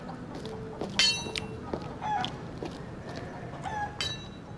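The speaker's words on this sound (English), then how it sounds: "Oh, there's a chicken." Chickens cluck repeatedly with short sharp calls spread across the scene in the role-playing game The Vale: Shadow of the Crown, set in a village with faint background ambience.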